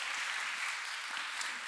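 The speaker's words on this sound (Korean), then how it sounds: "박수를 한번 해주시면 감사하겠습니다." Faint, distant clapping from an audience in a church setting, a soft, even patter of many hands lasting under two seconds.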